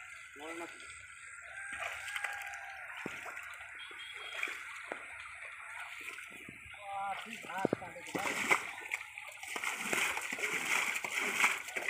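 Water splashes in bursts as a small hole is bailed out to catch native fish in a village, the sloshes uneven and close, with people talking throughout.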